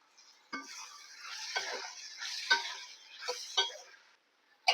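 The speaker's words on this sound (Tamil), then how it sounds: "இப்போ நம்ம இறாவை சேர்த்துக்கலாம்" Prawns sizzle and crackle as they are added to a hot pan for a prawn curry, with a few sharp scrapes and stirring clatters breaking through the steady frying hiss.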